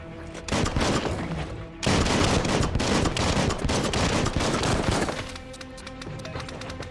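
Rapid gunfire from the video game Biomutant, loud and dense bursts of shots filling most of the stretch, with a brief lull before heavier sustained firing and a quieter tail at the end.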